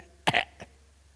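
A voice imitating a cough: one sharp, short burst followed by a slightly longer rasping push and a faint third catch, close and isolated against a quiet background.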